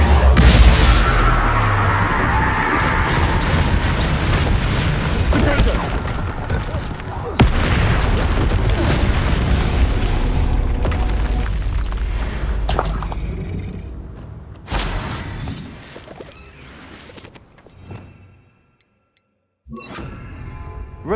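Bombarda and Confringo spells in Hogwarts Legacy set off heavy booming blasts with rumbling debris over dense game noise. A voice calls out briefly, and the sound fades to near silence before a final thump.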